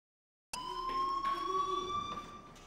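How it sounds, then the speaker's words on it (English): A fire alarm in the video game Life is Strange starts abruptly and rings continuously at a loud, steady pitch with a harsh electronic buzz, and nobody talks over it. "Do you hear that fire alarm?"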